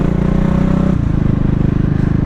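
A CCM Spitfire Bobber single-cylinder motorcycle thumps loudly and steadily up close, its exhaust note dropping in pitch about a second in as the revs fall into a lower, even beat.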